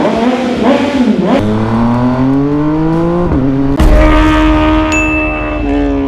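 An MV Agusta Brutale 800RR motorcycle fitted with an upgraded titanium exhaust revs loudly and close, its pitch climbing and dropping through several blips, followed by a sharper, harder rev near the end.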